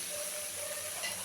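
Beans and potatoes hit hot frying spices in a pan, giving a steady, fairly faint sizzle and hiss that runs without a break through the whole short moment.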